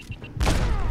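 A grenade detonates in the game Fallout 4: faint clicks give way to a sudden heavy booming blast that rolls on with a loud, rumbling tail close at hand.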